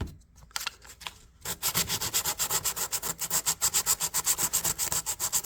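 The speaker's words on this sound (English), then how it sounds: "It does sand off pretty easy. And we'll try to get it all nice and smooth here." Rapid back-and-forth rasping of sandpaper scrubbing rust off a pocket knife blade, a short pause and scrape, then a steady rhythmic sanding stroke after stroke.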